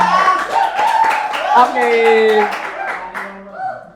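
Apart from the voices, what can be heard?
audience clapping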